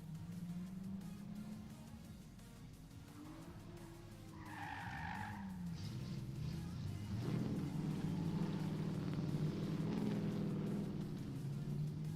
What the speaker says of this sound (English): Looks like we got Elijah Van Natter and Joey in the burnout box warming up their tires.